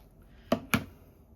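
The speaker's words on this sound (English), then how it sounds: "we're going to use pinking shears" Pinking shears cut fabric in two quick, crisp snips close by, a fraction of a second apart, with quiet before and after.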